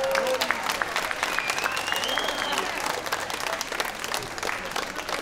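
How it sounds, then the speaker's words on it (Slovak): Audience applause at an outdoor folk festival in Slovakia, steady dense clapping from a large crowd sustained throughout, with faint whistles and voices mixed in. "Takže jeden veľký potlesk pre vás,"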